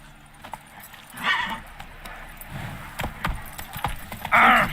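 Hoofbeats of the horse Roach in The Witcher 3, a few clopping steps scattered over a low game soundscape with brief brighter clatters, moderately close, no talk.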